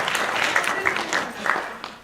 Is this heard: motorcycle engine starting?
no